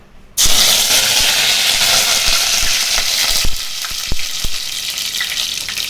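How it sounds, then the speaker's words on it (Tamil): Curry leaves drop into hot oil in a pan and set off a sudden loud, crackling sizzle that carries on steadily, with a few sharp pops near the end. "எண்ணெய் ஊற்றியாச்சு காஞ்சிடுச்சு சட்டியில் கருவேப்பிலை போட்டுக்கலாம்"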